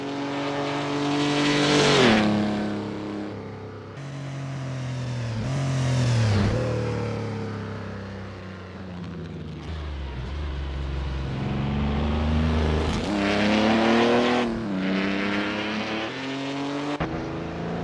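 A historic race car on a flying practice lap in the racing game Assetto Corsa, its engine revving hard and climbing through gears with several downshifts and deceleration dips, a loud continuous close-up roar.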